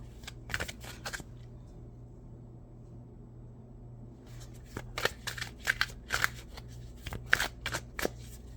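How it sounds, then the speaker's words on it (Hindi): Tarot cards being drawn and shuffled from a deck, with quick riffling and flicking bursts in two clusters separated by a quiet pause, close up over a low steady hum, no speech. "अब मैं आखिरी 2 कार्ड निकालूंगी।"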